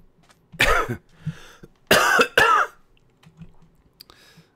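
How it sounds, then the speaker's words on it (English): Several harsh, congested coughs from a lone person playing Minecraft, in two bursts: one at first, then a tight double cough a second later, followed by faint throat noise, close to the microphone. "I guess my cough's not totally gone."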